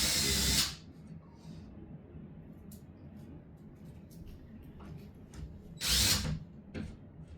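Power drill boring a hole for a wall plug during assembly of a cat enclosure, two short loud whirring bursts near the start and near the end, with faint clicks and handling noise between them.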